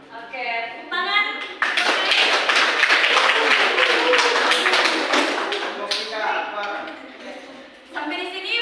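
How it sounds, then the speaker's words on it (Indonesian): Classroom students clap together during a microteaching lesson for primary school teacher trainees, a loud steady burst of many hands lasting several seconds, with voices at the start and end. "Oke, tepuk tangan."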